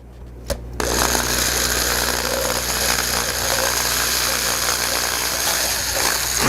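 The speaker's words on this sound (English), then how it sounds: "very carefully, I'll start drilling holes, and you don't have to go very fast" A close, continuous high-pitched drill whine, slowly drilling holes to make slots in a LiPo battery strap, runs steadily without pause after a brief quiet start, with a faint squeal riding on top.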